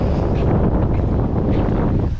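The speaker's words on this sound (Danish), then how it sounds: "det blæser alt for meget herude" Strong wind buffets the microphone outdoors in the Maldives, a loud, continuous low rumble and roar that fills the whole clip with no speech.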